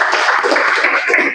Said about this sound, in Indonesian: Baik, tepuk tangan untuk kelompok satu.